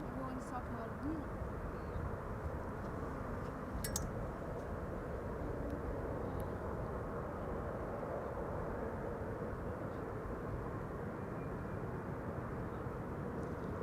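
An airliner on approach to Amsterdam Schiphol passes as a steady, broad jet rumble that holds at an even level throughout, with people talking faintly beneath it.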